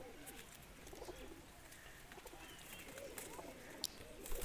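Pigeons coo steadily on a rooftop loft of Teddy and Kamager breeding pigeons, soft repeated calls layered with a few chirps and faint background noise, fairly close and moderately quiet.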